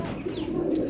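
A pair of modern Bondinette pigeons coo close by, a low, steady throaty hum with no talking over it.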